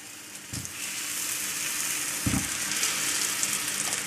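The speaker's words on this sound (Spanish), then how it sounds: "Echamos los champiñones, ya está el aceite caliente" Mushrooms fry in hot oil in a pan with a steady, close sizzle, and two brief louder bursts of crackle rise above it.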